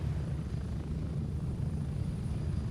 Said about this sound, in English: But we gotta actually take the chopper and then run there.